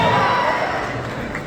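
Crowd applauding and cheering at a rally of Salvadoran diaspora supporters in the USA, loud and dense throughout, a steady wash of clapping with voices mixed in.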